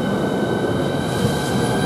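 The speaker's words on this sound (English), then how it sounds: "Now this fantasy train is now departing." A Class 395 train pulls away from a platform at Stratford International station, a loud, steady rumble of rolling wheels and motor hum with a faint high whine, no voices.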